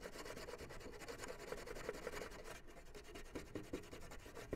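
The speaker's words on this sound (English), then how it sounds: "So we really want to use this Brillo pad aggressively and get in all the nooks and crannies and sand everything down the best that you can." A football helmet being scrubbed down with a Brillo pad before repainting: steady, close abrasive rubbing and scraping strokes that continue through the clip, with no one speaking.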